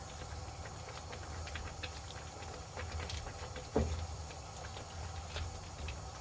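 Spinach cooks down in a pot of Filipino-style mung bean soup with a faint, steady simmering hiss and light bubbling patter. A single soft clunk comes partway through.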